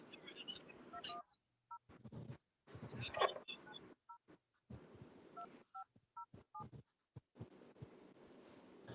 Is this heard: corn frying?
no